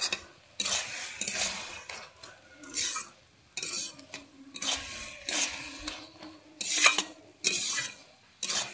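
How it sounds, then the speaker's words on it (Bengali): Cabbage curry seasoned with freshly ground garam masala is stirred in a pot, a series of distinct scraping and shuffling strokes at an irregular rhythm with short pauses between, close, over a faint sizzle, no talking. "দিয়ে আমি এবারে ভালোভাবে এটাকে নেড়ে নিচ্ছি।"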